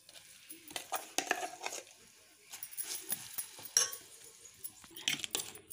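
Coconut chutney being stirred into a hot tempering in a pan for an ivy gourd chutney, with scraping and clinking of a spoon against the metal pan in bursts, up close and with no voices.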